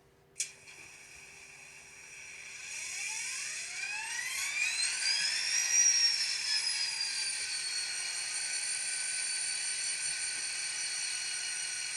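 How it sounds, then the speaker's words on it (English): An N-scale ScaleTrains SD40-2 model diesel locomotive starts with a click, then a whining, revving prime mover rumble rises in pitch and settles into a steady high-pitched mechanical drone. "Pretty good sound on the prime mover."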